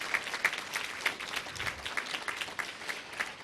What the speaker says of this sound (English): I heard some applause.